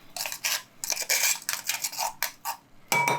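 A utensil stirs chunky homemade Mexican salsa in a bowl, giving a string of close, bright scrapes and clinks in irregular strokes, with a sharper knock near the end.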